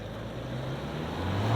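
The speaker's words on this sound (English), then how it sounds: "Spins the wheels in reverse as well" Toyota HiLux SR5 ute, a 2023 model, reversing hard with stability control off, its engine droning steadily and building slightly in loudness with a low tyre-spin rumble underneath, no talk.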